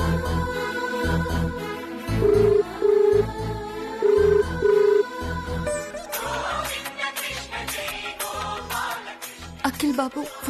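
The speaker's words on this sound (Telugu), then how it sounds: "ఇప్పుడు వినపడుతుందిగా నీకు నా ఫోన్." A mobile phone rings in a TV serial scene, a repeating tonal ring heard in short bursts over music, followed by dramatic background score.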